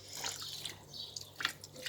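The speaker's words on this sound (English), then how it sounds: "So adding the warm water" Warm water drips and splashes onto okro pepper soup ingredients in a pot, with small irregular wet droplet sounds, close and moderately loud.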